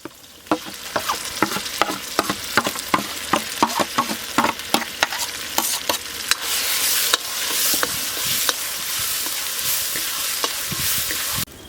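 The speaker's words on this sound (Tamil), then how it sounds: "வதக்கி அரைச்ச மசாலா சேர்த்துடலாம்." Ground masala paste with shallots, garlic and curry leaves fries in oil for a Tamil brinjal kara kuzhambu. A steady hiss is punctuated by rhythmic spoon scrapes against the pan, close and loud, with no talk.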